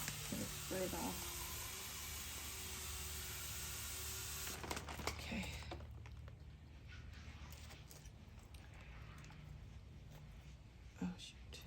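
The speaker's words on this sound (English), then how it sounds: "Got some dirt on it. Gonna spray it off." A spray of water hissing over a potted succulent arrangement to rinse off dirt, a steady close hiss that breaks off partway through, leaving softer scattered splashes and rustling.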